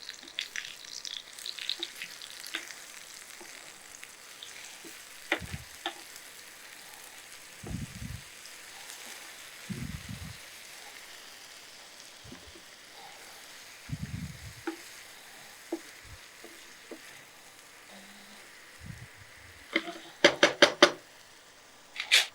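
Masala paste roasts in a pan for a village-style egg and potato fry, with a low, steady sizzle. Sporadic knocks and scrapes of a spoon against the pan break through, and a quick burst of sharp clatters comes near the end.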